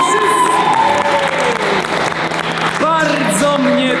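A crowd of game-show participants applauds and cheers steadily, with dense clapping and whoops under a loud host's voice speaking throughout.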